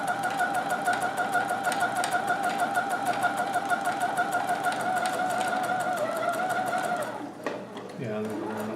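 A serger running with no thread gives a fast, steady mechanical whir with even stitch ticks for about seven seconds, then stops, and a few handling clicks follow.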